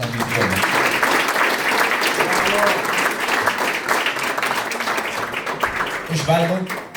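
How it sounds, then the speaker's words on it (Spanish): Sustained audience applause fills a hall at an international convention of historians and numismatists, steady and dense throughout, with voices and a few shouts mixed into the clapping. "um aplauso para nossos anfitriones"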